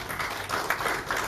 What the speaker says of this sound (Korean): 다시 한번 박수 드리겠습니다.